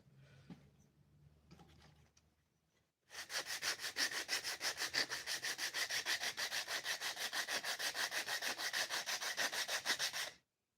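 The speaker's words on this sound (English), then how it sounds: "we're not taking a whole lot of material off with this 80 grit" A wooden box is sanded by hand with 80 grit sandpaper: after a few quiet rubs, a long run of rapid, even back-and-forth scratchy strokes, loud and close, then it stops abruptly.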